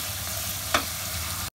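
Onions frying in a pan for chicken korma, a steady broadband sizzle held close and even, with one brief sharp crackle partway through before it cuts off abruptly.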